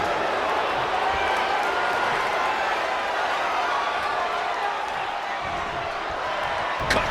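Crowd noise from a wrestling video game match, a dense, steady roar that holds at an even level throughout, with a sharp thump of in-ring impact near the end.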